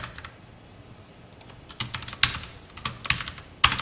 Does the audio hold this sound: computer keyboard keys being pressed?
yes